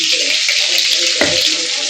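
Potatoes fry with turmeric and salt in a pan, giving a loud, steady broadband sizzle throughout, with a brief clatter of stirring partway through.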